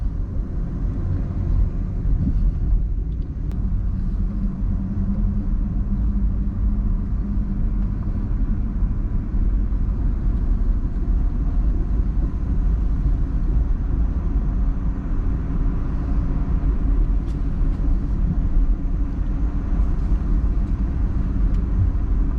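A 2011 Chevrolet Camaro SS on big 20-inch tires drones with a loud, steady low rumble that holds unbroken throughout, with no voices.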